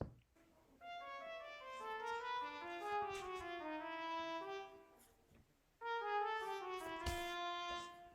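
A jazz line with chromatic enclosures plays as quick runs of clean melodic notes in two phrases separated by a brief pause, clear and fairly quiet, with no talking.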